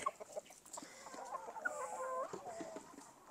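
Chickens cluck and chatter close by in a quiet yard, several birds making short, overlapping calls with no talking.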